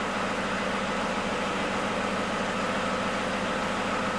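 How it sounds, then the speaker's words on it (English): A truck engine runs loudly and steadily during a roadside inspection, a dense, constant low rumble with broadband roar and no clear rise in revs, heard alone without voices. "And then they'll rev the engine."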